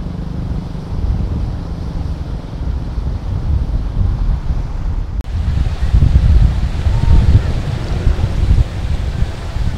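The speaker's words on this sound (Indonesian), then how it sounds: "Karena memang ombaknya sangat besar sekali." Big ocean waves pound the shore at Karang Taraje beach in Bayah, Lebak, Banten, with strong wind buffeting the microphone in a continuous, loud roar.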